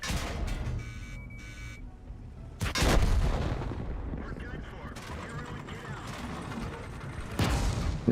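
Heavy artillery fires in a video game, with two loud booming blasts that break through a busy background of mechanical clatter and battle noise.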